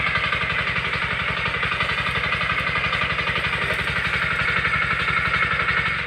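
A small engine-driven irrigation water pump runs steadily nearby in a dry rural field, its rapid, even mechanical chugging continuous and loud throughout, with no talk.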